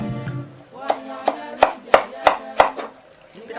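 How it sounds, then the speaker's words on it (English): A vegetable knife chops finely on a board for tuozaafi sauce, six sharp evenly spaced knocks close by with a faint voice at the start. "with your vegetable knife you shred it or you chop it very finely"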